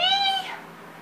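A house cat lets out a single clear, fairly loud meow that falls away at the end, heard alone close up.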